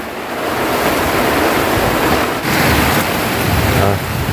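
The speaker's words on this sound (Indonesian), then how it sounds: "kita nikmati hujan, teman" Heavy rain and strong wind lashing a forest around a hut, a steady, loud, roaring wash of noise that swells slightly partway through.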